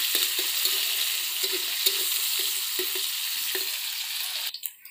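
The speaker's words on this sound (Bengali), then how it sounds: "একটু নাড়াচাড়া করি" Vegetables frying in a pan for vegetable fried rice, stirred by hand: a steady close sizzle with regular scraping strokes of the spatula, then an abrupt stop near the end.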